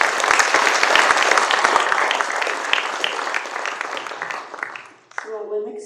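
Audience applause at an ACCA post-budget discussion panel forum, a broad wash of many hands clapping that slowly thins and fades, ending as a voice begins talking over the last scattered claps.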